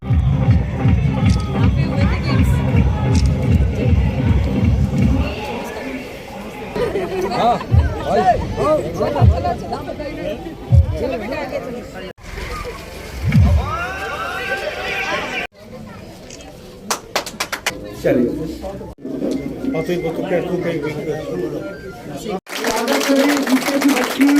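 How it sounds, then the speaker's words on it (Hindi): Crowd at a national athletics championship long jump event, rhythmic group clapping up front, then chatter, scattered claps and cheers mixed with someone talking loudly over the noise. "आप लोग 10 ताली बजा दीजिए, जबरदस्त ताली"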